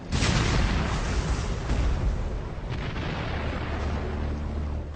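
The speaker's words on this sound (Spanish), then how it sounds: "Pero justo antes de cruzarlo se oyó una explosión." A big explosion at the Remagen bridge in wartime opens with a loud blast, then a long rumbling roar and crackling debris that slowly die away, with no voices.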